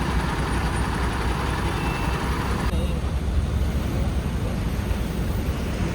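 Steady roadside traffic rumble with a truck passing along a busy road, a continuous close broadband roar with no gaps, and voices talking over it.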